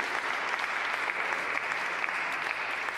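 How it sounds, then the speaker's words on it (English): Audience applause during a Martin Luther King Jr. keynote address in Durham, a dense continuous patter of many clapping hands, steady and moderately loud for a few seconds. "clap it up for King"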